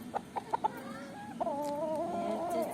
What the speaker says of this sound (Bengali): এইটা হচ্ছে আমার সুন্দর মোরগ